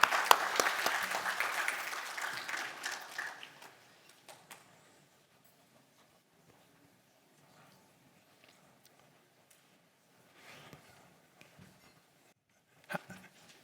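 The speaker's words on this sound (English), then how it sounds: "let's give Professor Klein a round of applause as well" Audience applause at an academic award presentation in a lecture hall, a burst of clapping that fades over a few seconds, followed by near silence with faint scattered sounds.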